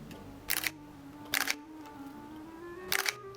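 Three loud, sharp camera shutter clicks from a street photographer's camera, each a brief bright burst, spaced about a second apart over a quiet background hum.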